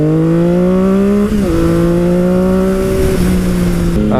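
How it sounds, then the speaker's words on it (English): A Yamaha R1 motorcycle engine revs hard and loud during a long wheelie, holding a steady high drone with brief dips in pitch as the throttle shifts. "That is the first Baitmaster R1 wheelie that I have seen"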